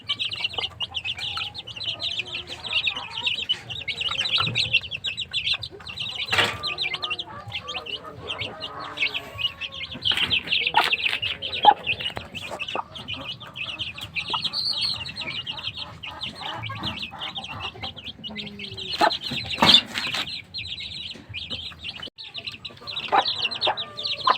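Asil chickens cluck and chirp in a scattered, irregular stream at close to moderate distance, with small hens and chicks calling over a quiet outdoor background and occasional faint bumps.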